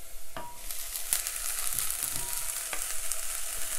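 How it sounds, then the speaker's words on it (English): Onions and dill sautéing over high heat for Iraqi spinach stew, a steady close sizzle with a few clicks of stirring in the pan, and no talking. "I'm going to add in the dill"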